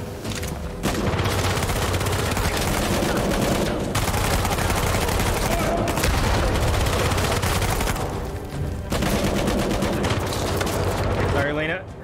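Dense, loud gunfire in Uncharted 4: A Thief's End, near-continuous volleys broken by short pauses, with speech mixed in.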